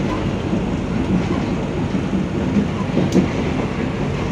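KA Singasari passenger train running after departing Jatinegara station in Jakarta, a steady, loud, dense rumble that continues unbroken throughout, with no voices.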